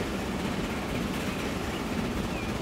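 An oil train in the video game Transport Fever rolls into a station, a steady dense rumble with faint rail clatter, no voices.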